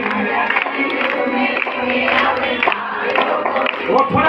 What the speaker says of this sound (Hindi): थोड़ा और ताली बजा के थोड़ा और जोर से बोलो